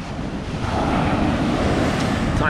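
Ocean waves breaking on the shore on a cold, rough day for a swim: a loud, steady wash of surf roar with wind buffeting the microphone and no speech.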